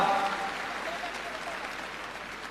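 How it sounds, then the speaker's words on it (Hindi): Steady applause from an audience at a Delhi government schools event honouring students, a dense wash of clapping that fades slightly and continues throughout. "जोरदार तालियों से आइए स्वागत करें"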